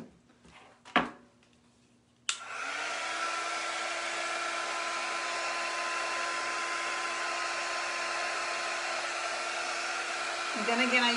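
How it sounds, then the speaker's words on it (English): Heat set tool blowing on waxed wood, starting with a couple of clicks and a knock, then a loud steady blower whir that holds for several seconds and shifts pitch near the end. "I use the heat set tool or the quick dry tool just to kind of soften that wax right into the wood grain"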